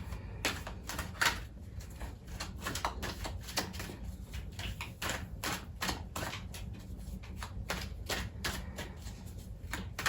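Playing cards are shuffled and handled for a four-aces draw, a steady run of close, crisp riffling and snapping with no one speaking.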